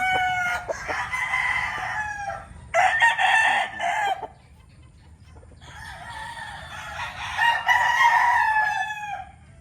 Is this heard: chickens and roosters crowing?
yes